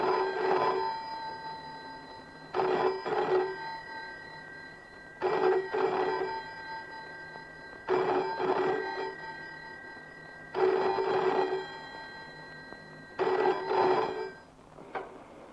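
An old-style telephone bell rings in a 1970s film scene, sounding in regular bursts about every two and a half seconds with short silences between, clear and prominent.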